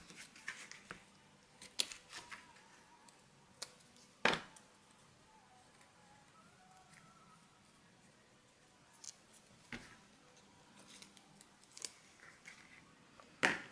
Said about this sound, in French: Alors ici, on va faire une petite découpe ronde.